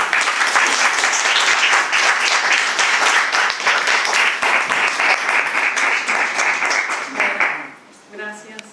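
Audience applause fills a literary reading event at a bookshop venue, dense, loud and steady for about seven seconds before fading quickly, with a brief voice emerging at the end.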